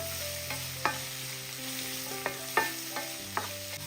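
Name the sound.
stirring onions with cumin and turmeric frying in a pan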